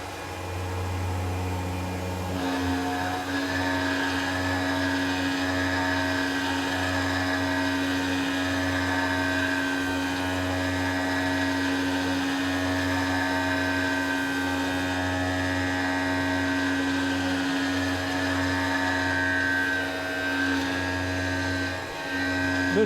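A Tormach PCNC 1100 CNC mill machines a part with pocketing, perimeter cuts, milling and drilling, giving a steady high spindle whine and cutting hum that continues almost unchanged for over twenty seconds.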